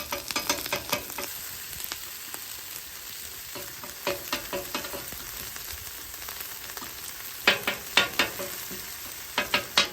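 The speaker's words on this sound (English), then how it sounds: "tossing the rice into the sauteed garlic just added so much more flavor" Rice frying with sautéed garlic in butter for chicken fried rice, a steady close sizzle with repeated sharp scraping and tossing clatters, clustered bursts near the start and again toward the end, no voices.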